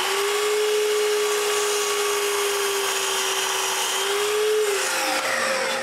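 A power saw steadily cutting an angled second pass through a wooden piece for a tripod, loud and continuous with a constant motor whine that dips as the blade finishes.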